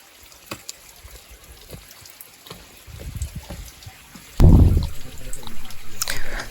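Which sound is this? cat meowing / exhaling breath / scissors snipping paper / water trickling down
water trickling down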